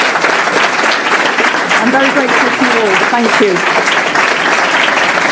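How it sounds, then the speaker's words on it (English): Steady, dense applause from an audience for four panellists at a European elections participation event in Bruges continues throughout, with someone speaking over the clapping. "Can you give a very, very big round of applause to the 4 panellists who I beat into submission?"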